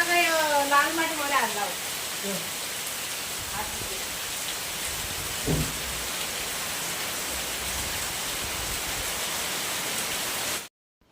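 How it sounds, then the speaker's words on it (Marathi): Steady heavy monsoon downpour hisses throughout at a constant level, with a brief voice-like tone near the start and a soft thump midway. "खूप जोरदार म्हणजे मुसळधार असा पाऊस बघा चालू झालेला आहे"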